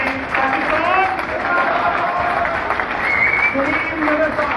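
A rally crowd at a Pakistan Tehreek-e-Insaf event in South Africa applauds. Dense, sustained clapping and crowd noise play under someone speaking over a microphone.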